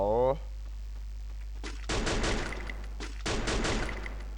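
Bursts of M60 machine gun fire in the Free Fire video game, two sustained rapid volleys at moderate level over a steady low in-game hum, with a short rising voice at the start.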